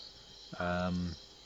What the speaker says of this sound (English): is the sounds of the frogs in the evening